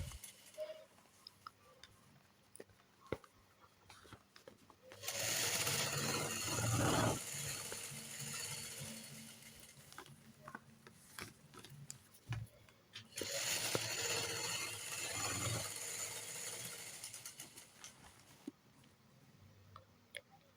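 A sewing machine stitches fabric for a hair bonnet, running in two bursts of steady mechanical whirring separated by quieter handling noise.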